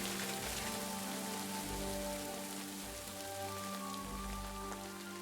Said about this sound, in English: Just a light summer rain apparently.